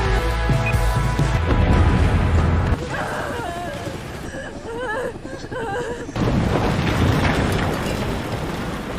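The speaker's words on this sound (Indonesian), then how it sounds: "Di detik-detik terakhir menjelang bomnya meledak, Sing langsung melampiaskan semua kemarahann" A bomb explodes in a zombie film with a loud, rumbling blast, then a quieter stretch with voices, followed by another heavy roaring surge.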